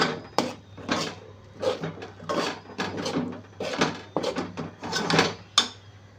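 Chakli flour dough being stirred into boiled water in a pot, with repeated irregular scraping, knocking and clattering strokes at close range, no talking.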